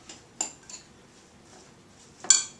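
Metal spoon clinks against a bowl while tabouli salad dressed with olive oil is stirred, a few sharp light knocks spaced out, with a louder clatter near the end.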